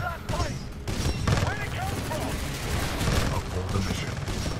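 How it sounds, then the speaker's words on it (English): Heavy 40mm tracker cannon on a titan in the video game Titanfall 2, firing in loud repeated blasts amid dense battle noise, with a voice speaking over the gunfire. "we have this 40mm tracker cannon here"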